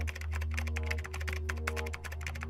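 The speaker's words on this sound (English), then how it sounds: "I proceeded to type on the keyboard." Typing on a computer keyboard: quick, irregular clicking keystrokes up close, arriving in short bursts over a low steady electrical hum, with no one speaking.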